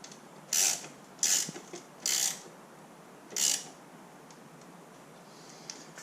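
Three screws are driven back in while a chain drive module on a garage door opener is reassembled, heard as four short, sharp ratcheting bursts, close and distinct, with quiet pauses between them.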